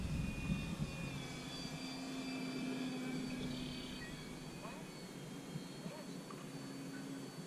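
Electric motor of a foam board and 3D printed Sopwith Camel RC plane buzzing at full throttle, a faint, thin whine heard from a distance outdoors over wind and soft background voices.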